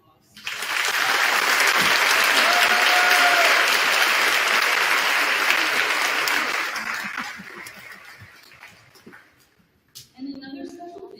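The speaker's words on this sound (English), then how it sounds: "Please join me in a round of applause." Graduation ceremony audience breaking into loud, sustained applause for about six seconds, then fading out, with voices talking quietly as the clapping thins.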